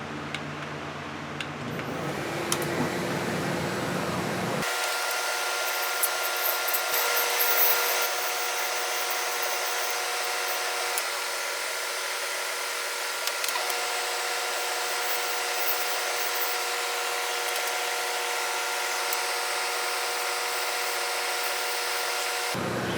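Wood lathe turning a pen blank cut-off mounted on a 5/8 inch dowel, a steady high whine with scraping tool contact starting a few seconds in and continuing evenly, close and loud without talk.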